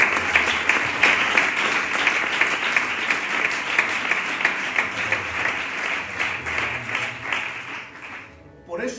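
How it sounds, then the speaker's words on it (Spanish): Church congregation applauding steadily for about eight seconds, a dense, loud wash of clapping with a few voices and cheers mixed in, fading briefly at the end. "¿Puedes darle un aplauso al Señor?"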